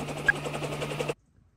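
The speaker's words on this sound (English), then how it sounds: "We will be arriving in a helicopter shortly." Helicopter rotor noise with a steady low engine drone and broadband whine, loud and close for about a second before cutting off abruptly to silence.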